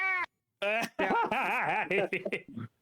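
A cartoonish cat meow sound effect plays through a speaker during an online tabletop game session. It sounds as several warbling, stuttering mews across about two seconds, loud and close, after a brief opening squeak.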